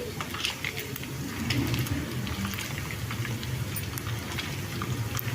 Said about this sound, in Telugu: మటన్ ముక్కలు కూడా మనకు ఆల్మోస్ట్ ఫ్రై అయిపోయాయి